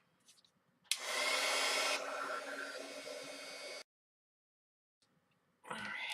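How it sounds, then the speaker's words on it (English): A handheld heat tool blows hot air over marker ink on a craft applique, a loud, steady whooshing drone for about three seconds that cuts off abruptly, then starts again at the end. "So let's just give that a shot of heat."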